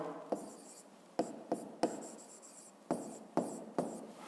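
Pen scratching on paper as someone writes out a physics exercise, soft close-up strokes with several sharp taps as the pen touches down, in a quiet room with no talking.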